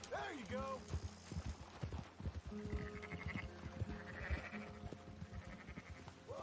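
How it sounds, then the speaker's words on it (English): Sheep being driven along in Cornwall bleat repeatedly, one loud close bleat at the start and others throughout, over a steady mix of shuffling hooves and outdoor bustle. "No, you silly sheep."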